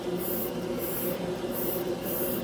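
A cordless battery-powered airbrush sprays primer for a base coat on a scale model, giving a steady close hiss with a few periodic high surges of spray and no talk over it.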